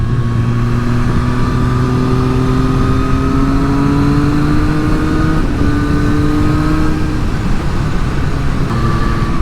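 A Triumph Street Triple 765 RS with an Akrapovic exhaust roars loudly and continuously, its engine note rising and easing through revs, heard alone.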